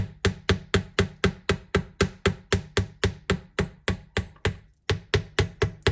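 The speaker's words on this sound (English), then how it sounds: "and now we're going to hammer." Sharp, evenly spaced metallic hammer strikes on wire against a bench block ring out close up, about three per second, with one brief pause before the tapping resumes.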